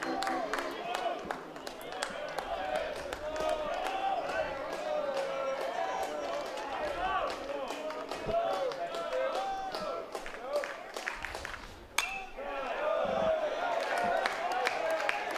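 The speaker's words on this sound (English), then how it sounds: "You just listen to this crowd, Mike. It's game 52 of the season. There's clapping, there's energy." A college baseball crowd claps and cheers during a Rice versus ECU game, with rhythmic clapping and crowd energy running throughout under continuous play-by-play commentary.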